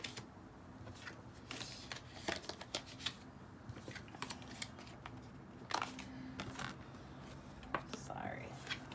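Tarot cards shuffled and pulled on a low table, a quick series of close, crisp riffles and card snaps with rustling between them.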